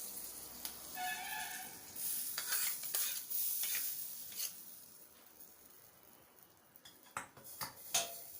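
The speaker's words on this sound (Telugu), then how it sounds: "ఇప్పుడు మనం గ్యాస్ ఆఫ్ చేసి పోపుని ఇందులో వేసుకోవాలి." A brief sizzle as hot oil tempering is poured into cucumber gojju, then repeated spoon-scraping and stirring strokes in a pot, fairly quiet with no talking.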